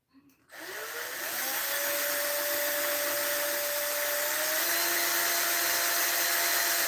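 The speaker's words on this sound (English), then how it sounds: "Got another hole drilled in." A power drill boring a hole for a home engineering project runs steadily and loudly after a brief start, its motor whine holding a constant pitch with a slight shift partway through.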